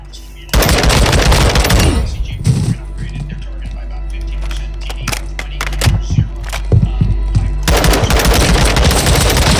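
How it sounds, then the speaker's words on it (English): Rapid bursts of gunfire from a first-person shooter video game, loud and close, with dense clustered volleys at the start and end and sporadic single shots between. "It's still getting a shot off when I'm shooting him in the head."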